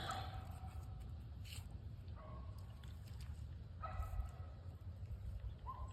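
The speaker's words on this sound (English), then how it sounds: "You hear up there barking." A dog barks several times in the distance up above, by the Cahaba River in Alabama, faint and intermittent against a quiet background hiss.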